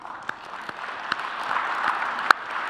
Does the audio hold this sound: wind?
no